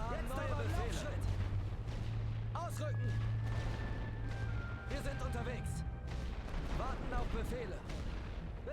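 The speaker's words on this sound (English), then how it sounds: "Apparently I'm getting shot already from there." Gunfire and artillery thunder in the World War I game The Great War Western Front, with dense overlapping shots and booms, while someone talks over the constant barrage.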